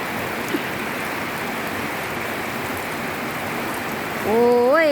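Steady rain hisses as a constant wash of noise, and near the end a voice begins singing over it.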